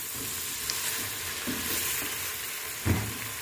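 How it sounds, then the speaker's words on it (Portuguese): Garlic fries in a pan for a cassava and bacon soup, giving a continuous close sizzle with occasional stirring scrapes and a brief louder clatter near the end. "Coloquei o alho, vou dar mais uma fritadinha aqui."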